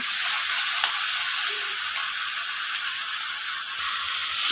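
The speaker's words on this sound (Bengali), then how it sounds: "বড় রুই মাছ রান্না হইতেছে" Large rohu fish cooking in a pan at a village kitchen, a dense, steady frying hiss that stays loud and close for several seconds with no voices.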